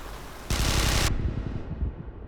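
A rifle fires a rapid automatic burst in Interstellar Marines, a loud, bright stream of shots lasting about half a second before cutting off into a fading echoey tail.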